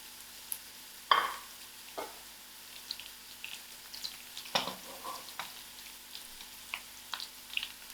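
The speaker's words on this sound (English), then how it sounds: "My onions are beginning to brown up." Onions browning with curry leaves in a pan give a soft continuous sizzle with occasional sharper pops and stirring clinks, close but fairly quiet, with no speech.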